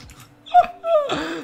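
A dog in Minecraft gives a couple of short whining yips, loud and close, with no talking alongside.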